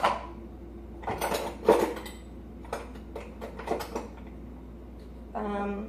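Plastic kitchen container lids are sorted and set down during a kitchen declutter, giving a few light clattering knocks and taps in separate bursts, with a short tonal clink at the end.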